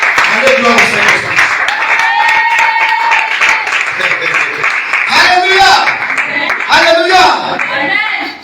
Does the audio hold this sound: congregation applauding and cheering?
yes